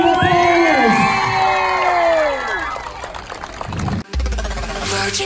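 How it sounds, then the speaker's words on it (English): Audience cheering and whooping with crowd noise at a podcast event, loud and sustained, with high shouts sweeping over the roar for about three seconds, then fading into a lower murmur and a brief cut before more crowd noise returns. "Give him a big round of applause."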